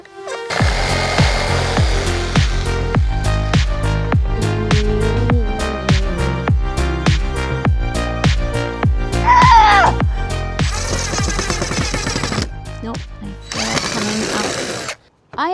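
A power drill bores pocket holes in wood for a DIY greenhouse door and windows, heard as rapid repeated close bursts of drilling with short pauses, loud and busy throughout.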